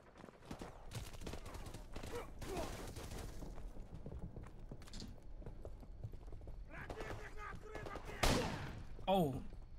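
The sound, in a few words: gunfire in Call of Duty: Modern Warfare Remastered video game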